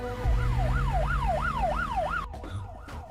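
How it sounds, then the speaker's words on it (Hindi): An ambulance siren arrives, its wailing pitch sweeping steadily up and down in loud repeated cycles over street rumble, then cuts off abruptly near the end, leaving a few muffled thumps. "ये तो पुलिस का सायरन है।"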